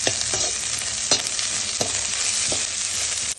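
Cumin, poppy seeds and white sesame seeds frying in a pan with a steady, close sizzle and crackle, a utensil stirring and scraping at a few points, with no voices.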